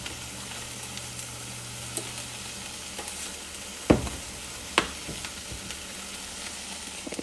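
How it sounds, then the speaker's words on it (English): Almond milk and spelt flour being stirred in a pot for a vegan pot pie filling. Soft, steady scraping and a faint simmering hiss run throughout, with a few sharper spoon-against-pot knocks near the middle. "I'm just going to stir and make sure it gets to a thick consistency"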